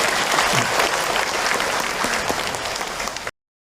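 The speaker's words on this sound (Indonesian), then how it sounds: "Tepuk tangan buat kita semua yang hadir." Dense applause from a religious lecture audience fills the space, steady and loud for about three seconds before cutting off abruptly.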